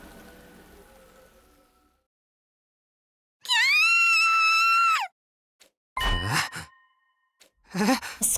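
A girl named Nozomi screams from inside a school at night in The Hundred Line: Last Defense Academy; after soft rain fades, a sustained, piercing high cry rings out, followed by shorter strained vocal bursts and groans.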